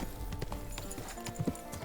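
Horse hooves clip-clop in Kingdom Come Deliverance II at a steady walking pace, with a rhythmic run of soft thuds over a dense ambient game soundscape.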